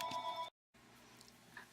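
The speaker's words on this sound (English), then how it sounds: "I'm sorry that phone rang." An indoor telephone rings nearby with a clear, tonal electronic ring that cuts off briefly and then resumes more faintly over a steady background hum.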